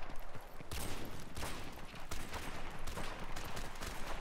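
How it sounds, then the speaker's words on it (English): Gunfire in the video game Modern Warfare Remastered, with a DLC sniper rifle among the weapons. Loud, dense bursts of shots and explosions sound continuously through the whole stretch, with no gaps. "That's the DLC sniper rifle as well."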